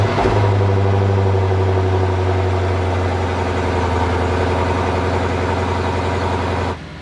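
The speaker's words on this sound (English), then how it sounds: "Let's start the morning with an IS500 cold start." A Lexus IS500 F-Sport's 5-liter V8 idles after a cold start with a loud, steady, deep rumble, holding evenly throughout before dropping slightly at the end.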